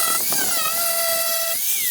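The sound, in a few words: grinder sanding a damaged plastic canoe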